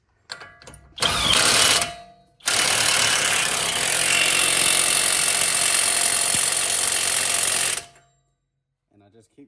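A power tool spins a car axle nut on after the strut-to-steering-knuckle bolts are refitted: a short loud burst, a pause, then a long steady high-pitched whir that stops abruptly, close and loud.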